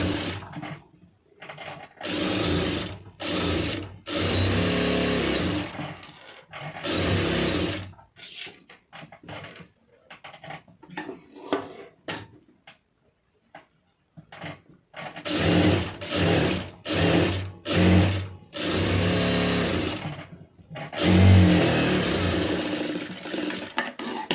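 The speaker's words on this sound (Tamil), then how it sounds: "இப்போ நீங்கள் ஊசி குத்தி தைச்சிங்கன்னா உங்களுக்கு சுருக்கம் வராது" A sewing machine stitches blouse lining fabric in loud, close bursts of rapid mechanical whirring, broken by short pauses and quieter stretches, then a run of closely spaced bursts near the end.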